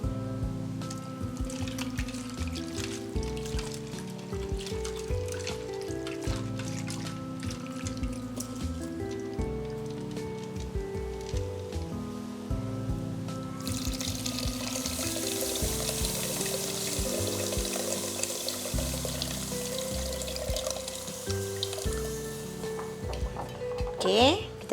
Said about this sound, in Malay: Kita kena tambahkan air lagi.